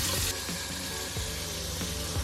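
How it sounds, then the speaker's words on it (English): Hot water runs from a tap inside a converted school bus, a steady hiss of flow with faint intermittent clicks and tones behind it. "then if we turn on the hot water"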